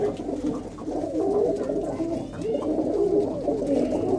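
Loft pigeons and doves coo steadily, several birds overlapping in a dense, continuous, close burbling chorus with no voices.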